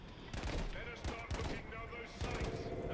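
Rapid bursts of STG-44 assault rifle fire on a Battlefield V practice range, several loud volleys with short gaps between them, close and sharp throughout.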